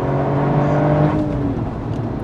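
A Toyota GR Yaris with 261 hp pulls hard under acceleration, a steady, loud engine note holding close and strong throughout with no talk over it.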